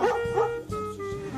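A dog close by gives a quick series of three or four sharp, high yipping barks, loud and alone, each with a whining tone.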